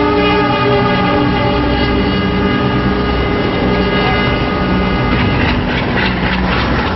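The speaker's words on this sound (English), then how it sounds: "You'll see one approaching train to the station." A diesel train approaches a station with a loud, close, continuous rumble while its horn sounds in sustained tones over the engine noise.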